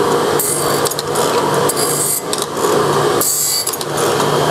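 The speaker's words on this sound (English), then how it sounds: "Now we're starting to get into the carbide here, and I've slowed down the rate of feed." A grinding stone cuts into the carbide tip of a saw blade at a slow feed, a loud, harsh, continuous grinding rasp with short pulsing bursts and brief dips, close up and without talk.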